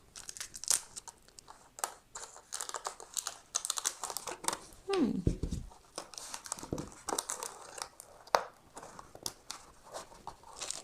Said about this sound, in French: je coupe mon scotch. Transparent, du scotch transparent